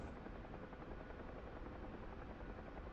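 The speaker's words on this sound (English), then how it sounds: "He's another rescue chopper." Bell UH-1H Huey rescue helicopter in DCS World flying as an air ambulance, a steady loud rotor and turbine drone that holds evenly throughout with no voices.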